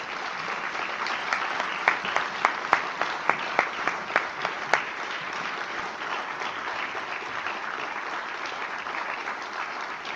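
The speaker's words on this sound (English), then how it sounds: "A round of applause for the awardees." Sustained applause from a large crowd for awardees at a ceremony, steady and even throughout, with a few sharper claps standing out early on.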